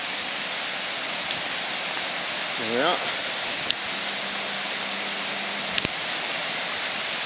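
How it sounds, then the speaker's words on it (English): A river in the Cairngorms crossed on large stepping stones rushes as a steady, full broadband wash close by. A brief spoken voice and a few small clicks sit over the flow. "You have to cross this river on the huge stepping"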